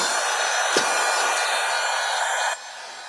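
A hair dryer blows loudly and steadily close by, drying craft paint, with a brief knock near the start before the airflow drops to a quieter setting at the end.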